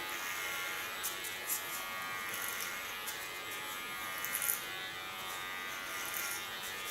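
Electric hair clippers with a 3 mm blade attachment buzz steadily at close range while cutting hair at the back of the head, a constant hum with brief rises as the blade moves through the hair.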